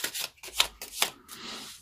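Tarot cards being shuffled in a run of quick riffling bursts, crisp papery flutters about every half second that trail into softer rustling, close and moderately loud with no talk.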